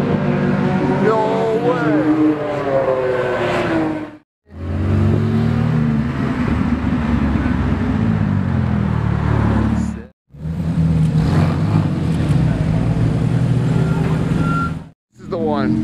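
A Porsche 997 GT3 sports car engine rumbles and revs in three loud bursts separated by brief silences, with people talking over it.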